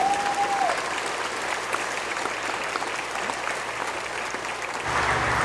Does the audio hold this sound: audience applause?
yes